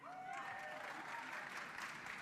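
An audience claps steadily at a Black Caucus meeting on the first day of the DNC in Chicago, Illinois: dense, sustained applause that fills the room from start to finish, with faint crowd voices mixed underneath.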